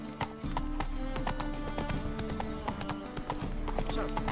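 Roach, the horse in The Witcher 3, clip-clops along at a steady walking rhythm, the hoofbeats regular and close, with game ambience and some speech underneath.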